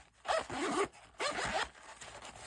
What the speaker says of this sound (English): The zipper works well. No hang-ups on anything.